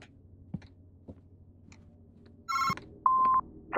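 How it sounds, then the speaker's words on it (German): In a horror video game, a telephone rings in short electronic bursts, two clear rings with a few faint clicks and taps before them, no speech. "Das Telefon klingelt."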